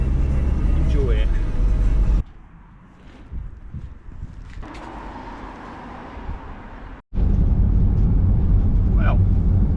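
Engine and road noise of a VW Transporter campervan driving on the road, a steady low rumble that drops quieter midway, cuts out briefly, then returns loud and continuous, with a voice talking over parts of it.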